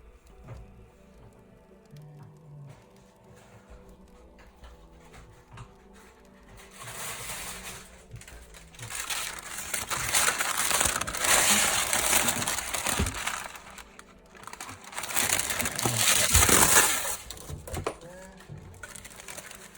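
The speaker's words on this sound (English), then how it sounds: "next up we need to put some baking parchment on it" Baking parchment is crinkled and folded over a chocolate log, with soft rustles at first building into louder, close crackling bursts of paper handling in the second half.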